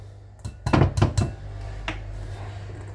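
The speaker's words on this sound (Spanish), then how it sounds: "ponemos la harina en el bol" Flour goes into a bowl with a quick run of hard clinks and knocks of utensil against the dish, a few close taps followed by quiet.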